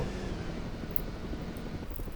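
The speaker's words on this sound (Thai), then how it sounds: "เฮลิคอปเตอร์มารับเราแล้วเฮลิคอปเตอร์มารับเราแล้ว" A helicopter arriving in the Roblox game Mad Road gives a steady, dense whooshing roar that stays loud and even throughout, with no voices over it.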